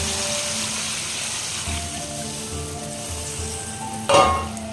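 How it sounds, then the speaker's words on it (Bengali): Steady loud sizzling of masala frying in a pan, then a sudden hiss as water is added near the end. "মশলাটা কষে গেছে, এবার আমি পরিমাণ মতো জল দিয়ে দেবো।"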